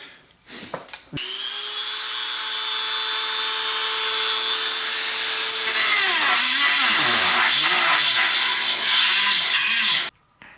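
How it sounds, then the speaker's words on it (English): A grinder spins up with a sharp whine and grinds on the swing arm of a 1997 Maico 500 dirt bike, steady and loud up close, then stuttering as it bites, before cutting off abruptly. "So I'm going to grind down, you know, with the grinder here, part of that."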